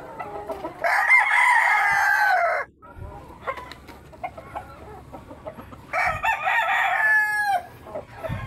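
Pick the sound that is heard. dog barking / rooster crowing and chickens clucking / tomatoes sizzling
rooster crowing and chickens clucking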